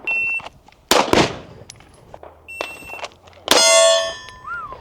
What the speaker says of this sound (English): Let's go ahead and get 2 more rounds and let's see if we can break under 1 second.